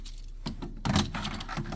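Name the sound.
car keys jangling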